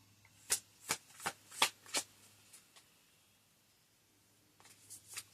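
Tarot cards shuffled in a run of five crisp riffling bursts close up, followed by a quiet pause and then a few more softer shuffles.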